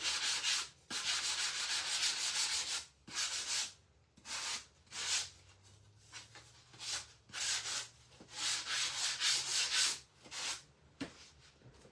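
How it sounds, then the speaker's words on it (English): Hand sanding of a crackle-finished wooden farmhouse clipboard sign with a 120-grit sanding sponge, a close, loud, rhythmic rasping in repeated strokes of about a second each with brief pauses between them. "And that's just the 120 sanding sponge."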